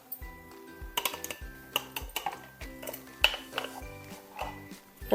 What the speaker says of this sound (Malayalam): ഒരു പാൻ അടുപ്പിൽ വെച്ചിട്ട് അതിലേക്ക് ഒരു സ്പൂൺ നെയ്യ് ഒഴിച്ചു കൊടുക്കുക